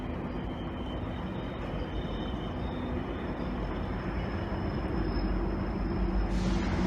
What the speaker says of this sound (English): There you go, I got a GO train.